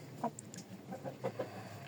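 A hen with feathered legs clucks up close in a series of short, sharp clucks with brief gaps between them.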